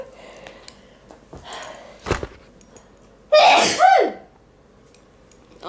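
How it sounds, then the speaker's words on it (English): One loud, close human sneeze, preceded by a sharp breathy intake, in a quiet house during a dog-sitting stay in the Blue Mountains, NSW, with soft handling sounds before it. "I'm going to sneeze"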